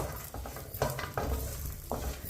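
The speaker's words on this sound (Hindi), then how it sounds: "ड्राई फ्रूट को 2 मिनट के लिए भून लेंगे" Dry fruits and pistachios roast in a pan over low heat for sweet vermicelli, with a few soft stirring scrapes and a faint sizzle, close and quiet.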